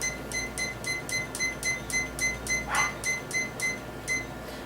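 A kitchen or lab timer gives a steady run of short, evenly spaced beeps while it is being set, fairly faint over a quiet room hiss, with no talking.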